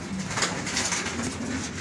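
Racing pigeons coo steadily and close by, a soft continuous murmur of several birds with low rolling calls and a little ambient noise, no voices.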